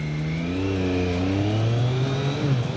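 Triumph Street Triple 765 R motorcycle engine, restricted to 35 kW, revving steadily and loudly up close, its tone rising and falling through several throttle blips with no voices over it.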